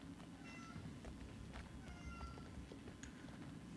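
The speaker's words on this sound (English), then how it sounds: "I apologize if you can hear my cat whining in the background." A domestic cat whines and meows faintly in the background of a quiet room, with thin intermittent cries over a low steady hum.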